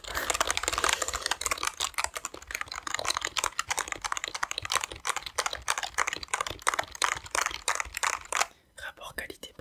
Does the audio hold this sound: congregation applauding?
no